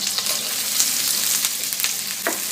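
Finely chopped onion, garlic, green chilli and cumin fry in hot oil, making a bright continuous sizzle with scattered crackles and light stirring taps. The sizzle is close and steady throughout, with no talking.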